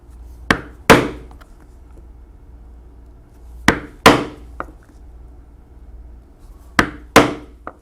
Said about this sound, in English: we will use the 1/8 inch punch to punch for the lacing holes